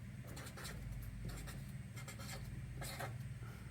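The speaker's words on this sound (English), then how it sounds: "We're gonna write down passphrase and the words" Pen writing a passphrase by hand on paper for a backup, a soft scratchy patter of strokes in short bursts, close and quiet, with no talking.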